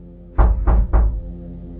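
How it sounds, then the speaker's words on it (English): Three firm, evenly spaced knocks on a front door, close and heavy with a dull thud, then quiet room tone. "there was a knock at my front door"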